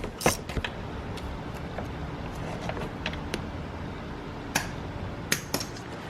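A ratchet on an extension working loose a 13 mm bolt during a Volkswagen Tiguan starter replacement, sparse sharp clicks and creaks scattered over low background noise, close but fairly quiet, no talk.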